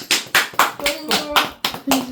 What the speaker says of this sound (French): Je me fais applaudir d'avoir soufflé